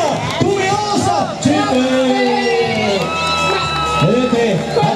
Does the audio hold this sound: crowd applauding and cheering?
yes